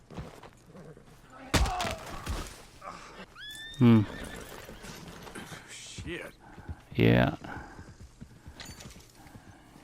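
A horse in Red Dead Redemption 2 gives two loud whinnies with a sharp thump and hoof clops between them, while someone speaks briefly.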